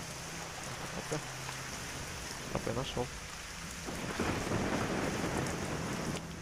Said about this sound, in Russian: дождь идет, а я вот бегаю под дождем